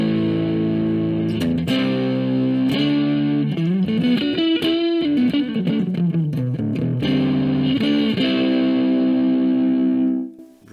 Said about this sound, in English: Really full and thick blues tones.